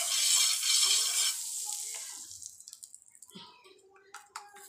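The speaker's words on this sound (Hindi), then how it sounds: "अभी इसके ऊपर थोड़ा बटर डाल के चारों साइड घुमा दे रही हूँ" Butter sizzling as it melts in a hot frying pan, loud at first and then fading, with the pan being swirled around and a few light rattles and clinks.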